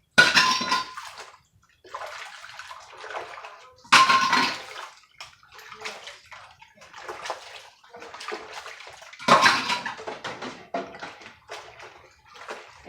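Canning jars are washed with a small towel in water, making repeated splashing and sloshing bursts with short gaps between them, fairly close and alone.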